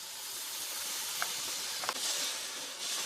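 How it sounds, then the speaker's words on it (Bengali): Homemade sauce and a splash of water hit a hot pan for chicken 65, producing a steady, fairly soft hiss of steam with a few faint clicks. "এরপরে আমি বানানো সসটা দিয়ে দিচ্ছি। অল্প একটু জল দেব।"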